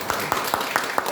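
A handful of people at a Daejeon arts policy forum clap in a loose, even rhythm, the claps moderately loud and spaced regularly.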